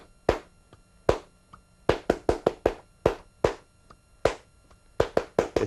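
Sharp, dry hand claps tap out a rhythm in four at a steady tempo, close and clear in a quiet room, with uneven groupings and short gaps between the beats and no talking over them.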